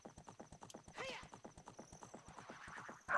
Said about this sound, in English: I think the horse makes a bleh noise.